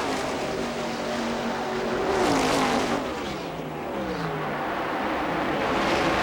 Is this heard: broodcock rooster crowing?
no